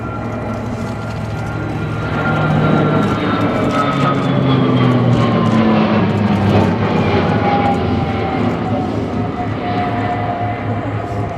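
A military aircraft flies past at the RIAT air show with a loud, sustained engine roar and a slowly falling whine as it passes. The roar swells and then holds steady, and a commentator can be heard faintly beneath it.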